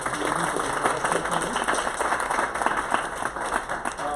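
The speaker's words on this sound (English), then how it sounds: "give a big, again, round of applause to our panelists" Sustained audience applause for panelists at a cybersecurity policy panel, a dense, steady wash of many hands clapping together, continuing without a break.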